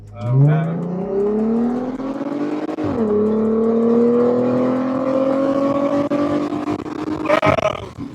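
A Plymouth Prowler's engine revs up loudly and accelerates, its pitch climbing steadily, then shifts gear and keeps pulling before a brief rattle at the end.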